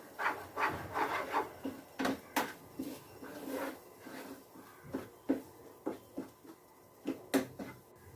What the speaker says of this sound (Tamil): அதை ஆட் பண்ணி நல்லா மிக்ஸ் பண்ணி விடுங்க